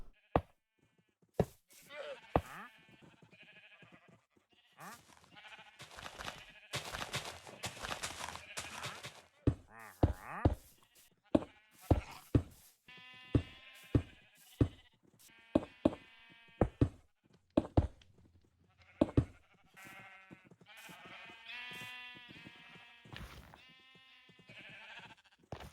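Sheep in the Minecraft video game bleat again and again, with a dozen or more short, clear calls spaced irregularly over half a minute, mixed with sharp in-game clicks and thuds.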